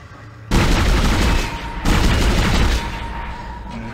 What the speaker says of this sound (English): Let's try the pulse rifle.